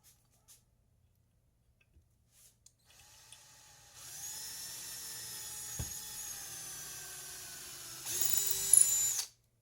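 A power drill bores a pilot hole in a hot workshop: after near-silence, a steady whining drone starts and holds, then surges louder in a final burst, close by with no talking.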